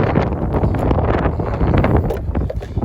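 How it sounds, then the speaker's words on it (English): Loud, rumbling wind buffets the microphone continuously, a heavy low roar with gusty crackles and no other clear sounds. "she's kind of windy here"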